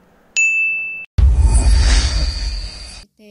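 Notification bell ding sound effect: a single bright ding rings out and fades, followed after a brief gap by a swooshing burst of layered effect sound, all loud and close with no talking.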